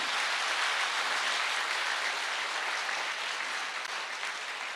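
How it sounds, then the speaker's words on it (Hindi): Enthusiastic audience clapping at a health awareness program for an Ayurvedic wellness company, a thick, continuous round of applause that eases off slightly toward the end, with no speech over it. "एक जोरदार तालियां होनी चाहिए संस्था के लिए"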